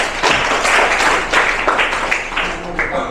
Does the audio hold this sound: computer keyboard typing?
no